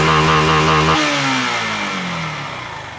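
A fuel-injected Honda Titan 150 motorcycle engine, reported unable to reach 100 km/h, revs high and steady up close, then the throttle is released and the pitch slides smoothly down over a couple of seconds as the engine winds back toward idle.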